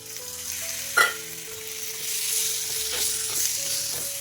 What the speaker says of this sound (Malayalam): അപ്പോൾ അതുവരെ നമുക്കൊന്ന് വഴറ്റിയെടുക്കാം